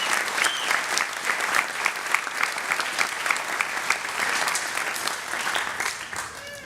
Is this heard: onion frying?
no